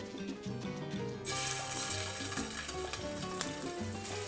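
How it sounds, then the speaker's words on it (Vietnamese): Shrimp meatballs pan-frying in a shallow layer of oil, a steady close sizzle that rises sharply after the first second and stays loud, with faint stirring clinks. "Mình cho dầu vừa đủ để mình áp chảo thôi nha các bạn, chứ mình không có deep fry nữa. Mình chiên vừa tới thôi."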